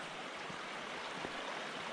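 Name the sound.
creek flowing beside the river trail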